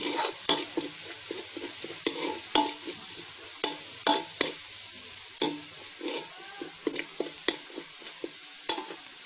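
Frogs and holy basil are stir-fried in a hot pan with a steady loud sizzle throughout, while the spatula scrapes and taps the pan at irregular intervals, heard up close with no voices.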